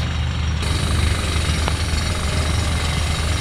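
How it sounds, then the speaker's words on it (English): A jackhammer rattles nearby on a golf course as a loud, continuous low pounding drone, steady throughout with a faint click partway through and no talking. "that jackhammer over there just does not"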